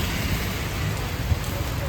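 Heavy rain pours steadily in a dense, even hiss with low rumbling underneath, close and continuous with no talk.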